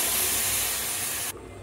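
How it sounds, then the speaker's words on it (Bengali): Water hits a hot pan of fried broken rice, a loud, close burst of hissing steam and spray that holds steadily for over a second, then cuts off abruptly to a faint residual sizzle. "এখন দিয়ে দিব পরিমাণ মতো পানি"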